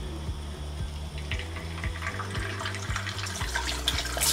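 An egg fries in hot oil in a pan, sending up a steady, close crackle and sizzle with small popping bursts that grow livelier toward the end. No voice is heard.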